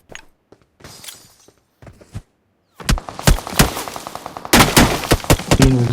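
Gunfire in a BGMI battle royale match: scattered sharp shots at first, then after a short gap, rapid bursts of automatic fire crackle loudly and densely, close and repeated.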